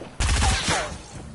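A single loud, close blast from Fortnite's tactical shotgun cracks sharply and decays quickly, followed by a softer echoing tail.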